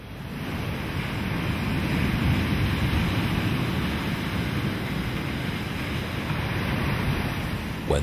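Rough sea surf pounds a rocky penguin shore in a loud, continuous roar, with heavy low rumble and wind buffeting throughout and no voices.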